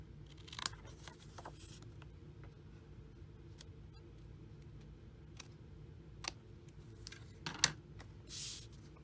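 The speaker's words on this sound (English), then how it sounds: "I'm going to snip off the extra length here again." Scissors trim excess length of paper or ribbon during card making, giving a few quiet, crisp snips spread over near silence.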